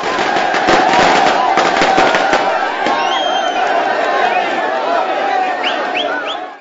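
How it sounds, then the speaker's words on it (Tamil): Firecrackers burst at a Tamil Nadu street celebration of Jayalalithaa's release on bail, with a rapid run of sharp cracks in the first few seconds over a loud, steady crowd roar and scattered whistles. "மகிழ்ச்சி வெள்ளத்தில் பட்டாசுகளை வெடித்தும் இனிப்புகளை விநியோகித்தும் ஜெயலலிதா விடுதலையை கொண்டாடினர்"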